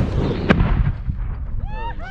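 An 1898 3.2-inch bag gun cannon fires once, a single loud, sharp boom followed by a rumbling decay as a voice calls out afterward.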